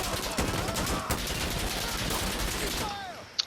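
Rapid automatic gunfire in the video game Insurgency Sandstorm, a dense burst of repeated shots rattling for several seconds, with voices briefly talking over it and a sharp final shot at the end.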